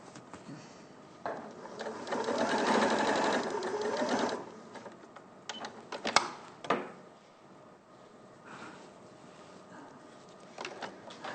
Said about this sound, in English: So now you're just stitching the outer fabric.